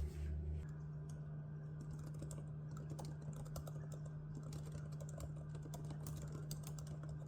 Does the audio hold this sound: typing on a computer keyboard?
yes